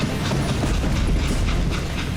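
Train in the Call of Juarez Gunslinger western game rumbling along loud and close, a dense steady roar with a faint rhythmic clickety-clack of wheels over rails.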